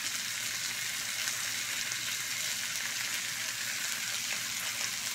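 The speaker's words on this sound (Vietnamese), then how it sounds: "Cái này là áp chảo. Chứ đâu có chiên." Raw meat pan-searing on an indoor griddle for a Korean barbecue meal, a steady close hiss and crackle that stays even and dense throughout, with no talk over it.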